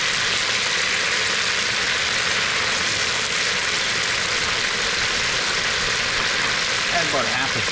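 Butter and oil sizzle in a pan for a chicken pot pie base, a steady broadband hiss held at an even level throughout with a faint low hum beneath.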